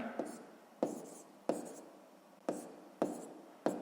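Pen writing maths figures on paper, heard as close, soft scratchy strokes in short bursts, about six quick sharp marks spaced roughly half a second to a second apart in a quiet room.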